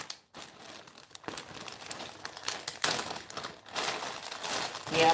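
A plastic bag crinkles and rustles continuously up close, with bursts of crackling handling that swell louder toward the end, with no voices.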